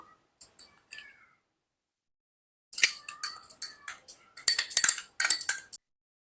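A metal spoon tapping and clinking against a glass while spice mix goes into a lemon mint sherbet: a few light taps, a pause, then a quick run of bright clinks and scrapes, close and otherwise quiet.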